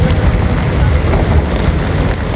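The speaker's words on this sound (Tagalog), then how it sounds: "bumubuhos na may ulan." Heavy rain pours down beside the Angat river in Bulacan as a dense, steady roar of drops. It stays loud and unbroken for the whole stretch.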